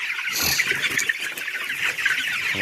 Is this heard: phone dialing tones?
no